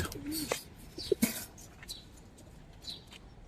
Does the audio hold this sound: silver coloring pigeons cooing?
yes